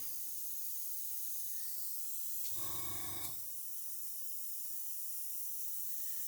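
A single short hiss of black spray paint from a can, about a second long, sprayed over scale model stencil and insignia masks; it is fairly faint against a quiet background.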